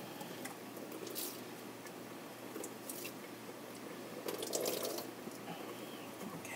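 Makeup brushes being rinsed and squished in water during cleaning, soft wet squelching and dribbling with a few brief splashy bursts, quiet and close with no talking.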